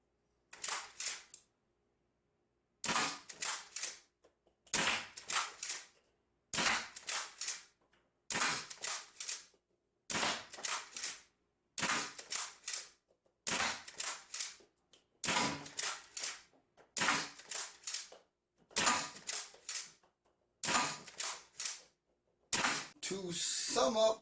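A Game Face Trion spring-powered, pump-action half-dart blaster fires again and again, each sharp snap and clatter of the pump separated by a second or two of silence, about a dozen evenly spaced shots close to the listener.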